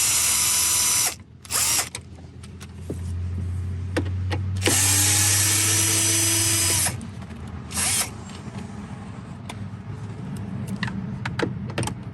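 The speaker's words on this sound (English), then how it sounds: "There's going to be a total of 4 screws to undo, 3 and 4, in order for you to remove this whole panel right here." Power driver whirring in long loud bursts, close up, as it undoes T20 screws holding an interior panel in a BMW 6 Series, with short ratcheting pauses between runs and no talking.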